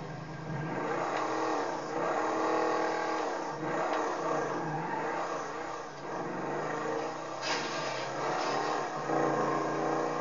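A GTA 5 Virgo car engine revs up and down repeatedly while driving, rising and falling in pitch, loud and continuous throughout.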